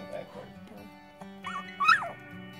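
Three-week-old Shetland Sheepdog puppies whimper and let out rising yips close by, thin high cries scattered over low background sounds.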